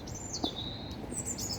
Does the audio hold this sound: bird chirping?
yes